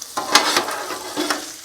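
Cabbage, sausage and shrimp fry on a Blackstone griddle, giving a close, steady sizzle with a few sharper bursts as the food is tossed and stirred; no one speaks.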